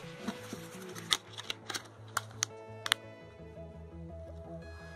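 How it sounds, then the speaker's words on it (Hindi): A battery being fitted into a Swipe Elite Star 4G smartphone: a quiet series of sharp plastic clicks and snaps, about a dozen irregular taps close by, then settling into near silence, with no talking. "तो चलिए बैटरी को डाल के इसे पावर ऑन करते हैं।"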